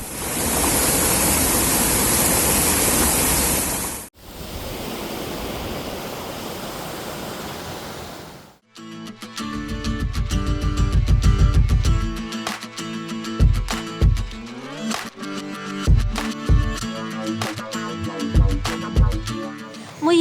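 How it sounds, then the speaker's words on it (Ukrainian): Water floods a stony gully after heavy rain, roaring and gurgling over the stones in a loud, steady rush for about the first eight seconds before music takes over. "Вода клекотіла поміж камінням, гула і ревла"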